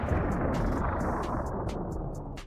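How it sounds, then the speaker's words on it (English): A tank's high-explosive round bursts against an enemy infantry line, a loud, dense roar of blast and rumbling debris that fills the whole moment and slowly fades, with scattered sharp crackles on top. "The explosion rips through the Russian line, throwing the anti-tank teams into chaos"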